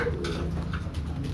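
A racing pigeon at a Garut bird auction gives soft, low cooing calls, faint and close, with a steady background hum.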